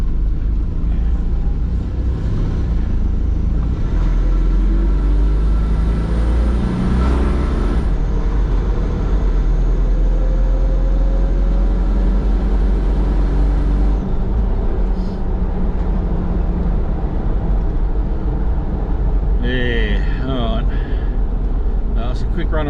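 An 80 Series Land Cruiser rolls around the block on a test drive, with a steady low engine drone and road rumble filling the cabin while people talk over it.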